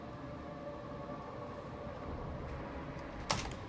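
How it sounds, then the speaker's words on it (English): A train-like mine cart in Path of Exile rumbles along with a continuous low rolling rattle and faint metallic whine, ending in a short sharp clack near the end; no speech. "Okay, back to the choo-choo train."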